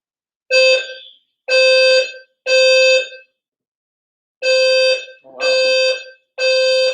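Fire alarm blaring in a series of loud, harsh electronic honks, each about three-quarters of a second long with short silent gaps, six blasts with one longer pause mid-sequence, alone without speech.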